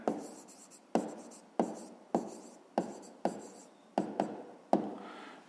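A pen writes an answer on paper in close, quiet strokes, a rhythmic series of about ten scratchy bursts each starting with a tap and trailing off, with no voices over it.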